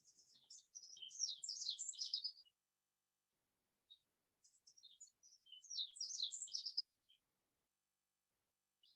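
Two clusters of quick, high bird chirps and twitters sound outdoors, separated by a quiet gap with a few isolated peeps, clear and fairly near against near silence, no voices.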